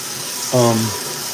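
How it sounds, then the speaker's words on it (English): Cold tap water gushes into a sink being filled to wash vintage hats, a brief splashing burst over a steady background hiss while a voice talks. "now I'm gonna fill this with cold water"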